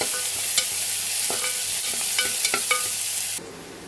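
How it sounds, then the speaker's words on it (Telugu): Onions fry in a pan with a constant close sizzle, broken by several clinks and scrapes of a spoon stirring. "ఇప్పుడు ఉల్లిపాయలు వేసేసుకున్నాం ఇవి బ్రౌన్గా వేగిపోయిన తర్వాత తోటకూర వేసుకోవాలి"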